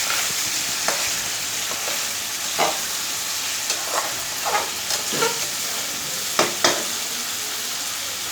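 Hilsa fish pieces fry in spices in a pan with a steady, close sizzle, broken by scattered clinks and scrapes of a utensil.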